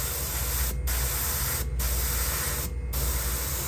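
An airbrush sprays pearl black paint in three short strokes to accent the head of a Kokanee fishing lure, giving a steady close hiss that breaks off briefly between strokes.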